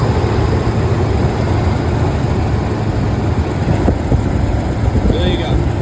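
A Ram pickup truck's engine runs at a steady low idle throughout, loud and close, with a constant rumble and faint occasional clicks on top.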